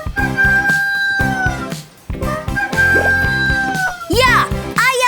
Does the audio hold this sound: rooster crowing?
yes